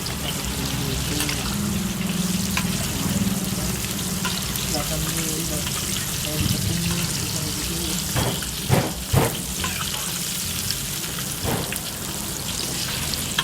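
Garlic fried chicken crackles in hot oil at a food stall, giving a dense, continuous sizzle. A few brief clattering knocks cut through near the end.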